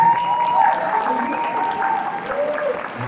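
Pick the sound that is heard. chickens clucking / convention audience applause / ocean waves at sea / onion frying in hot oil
convention audience applause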